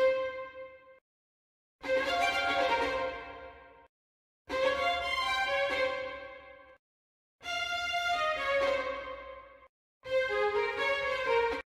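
Four bursts of sustained, harmonically rich violin chords separated by short silences, bold and dramatic Sekiro-style samurai battle music.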